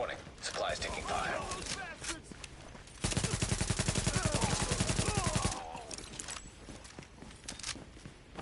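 Automatic gunfire in The Division video game, a rapid, evenly spaced burst lasting a couple of seconds. Scattered game sounds and talk come before and after it.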